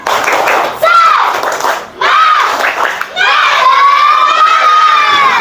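A classroom of children shouting a cheer of "hooray" in bursts, loud and close, with rising and falling voices across several waves.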